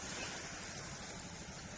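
Ocean waves wash against the seaside of an island at sunset, a steady broadband surf wash with some wind rumbling on the microphone, continuous and fairly close throughout.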